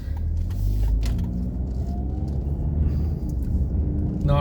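A car rolls through a residential neighborhood with a continuous low engine and road rumble heard from inside the cabin, plus a few faint clicks and rattles.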